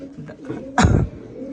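Andalusian racer pigeons give a single brief coo up close, a short burst standing out against quieter background rustle and faint low murmurs.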